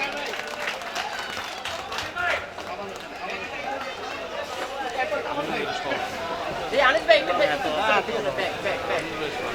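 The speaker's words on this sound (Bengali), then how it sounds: "সবাইকে জোরে তালি যান প্লিজ" An audience claps at a political meeting in a Dhaka market, with a scattered, fairly loud patter of hands that swells near the end. A voice speaks over the applause and crowd chatter.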